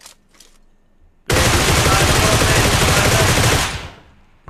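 Rapid automatic gunfire in a video game, a loud sustained burst of machine-gun shots lasting a few seconds after brief quieter sounds, then cutting off.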